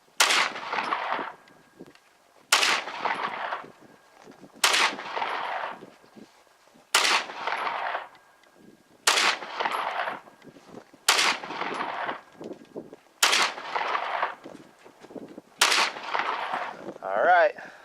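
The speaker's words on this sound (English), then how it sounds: "This is 10 shots." A ten-shot string of 300 AAC rounds loaded with cast zinc bullets, fired outdoors: eight loud, sharp reports spaced about two seconds apart, each trailing off in echo, plus a brief mechanical rattle at the end.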